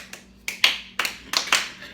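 Hand clapping sounds as six sharp, close claps in an uneven rhythm over two seconds, with the later claps coming in quick pairs.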